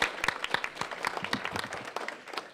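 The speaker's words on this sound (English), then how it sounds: "give yourselves a hand" Audience at a box lunch talk applauding, a dense burst of many hands clapping close and steady throughout with no talk over it.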